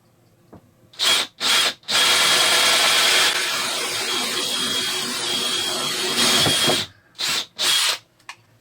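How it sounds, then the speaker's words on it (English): A power drill with a 2-inch hole saw spins up in short bursts, then cuts steadily through a panel for about five seconds before more brief trigger pulses, loud and close with no talk. "So I need to drill a hole 2-inch diameter."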